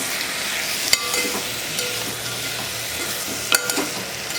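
Mutton sizzles as it fries in a pan for a mutton kozhambu curry, a steady close hiss broken by occasional scraping stirs and clacks of a spatula against the pan.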